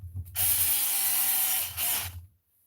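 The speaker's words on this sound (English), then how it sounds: "Go ahead and throw these 2 screws in." A power drill drives screws into RC car parts: one close, whining burst of about a second and a half with a short dip near the end, then silence.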